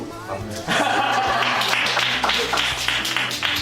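Applause breaks out among a small studio group celebrating home shopping host recruits, dense clapping mixed with laughter and chatter, fairly close and steady throughout.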